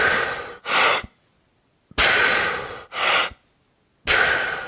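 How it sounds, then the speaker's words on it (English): A person demonstrates hook breathing for recovery, three cycles of a sharp, forceful inhale followed by a pressured, held exhale, close and loud with short silences between breaths. "so that's hook breathing"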